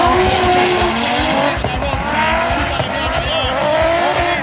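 A drift race car at a DMCC Series qualifying round on the ICAR track in Mirabel, close and loud, its engine revving hard on throttle while the tires squeal continuously through the corner.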